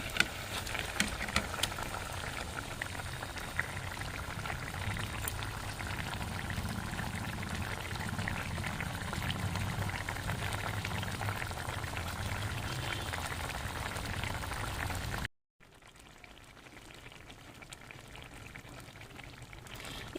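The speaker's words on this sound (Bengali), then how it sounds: "ঝোলটা ফুটে উঠেছে।" Curry gravy for an egg posto dish boils steadily in a pot, a soft continuous bubbling and popping heard quietly and alone, briefly cutting out before the bubbling resumes.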